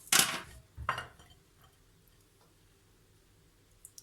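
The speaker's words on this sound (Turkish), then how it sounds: "Evet bu şekilde bir kaşık yardımıyla ayırabilirsiniz." Metal spoon scraping and knocking against an avocado skin as the flesh is scooped out, two quick clinking strokes close up, then near silence with a faint click at the end.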